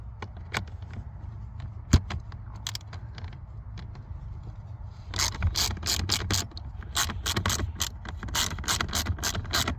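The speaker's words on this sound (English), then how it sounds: "Tighten up the screws." A ratchet clicks as it tightens screws on the AC HVAC blower of a 2010–2014 S197 Ford Mustang, with faint scattered clicks at first and then a close, rapid burst of ratcheting strokes.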